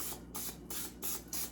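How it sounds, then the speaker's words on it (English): Olive oil spray hisses onto raw steak chunks in a home kitchen in several short, sharp bursts in quick succession, close and fairly quiet. "olive oil spray on the meat"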